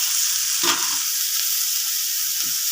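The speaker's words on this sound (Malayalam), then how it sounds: "ഈ സമയം എടുത്ത് വെച്ചിരിക്കുന്ന പാവയ്ക്കായി ഇട്ട് കൊടുക്കാം" Bitter gourd pieces hit hot oil with mustard seeds already popped in a pan, giving a loud, steady sizzle and crackle with a brief burst of stirring near the start and no talk.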